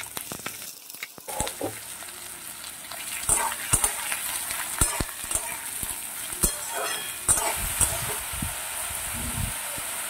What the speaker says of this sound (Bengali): এবারে কেটে রাখা ঝিঙেগুলো দিয়ে দিচ্ছি।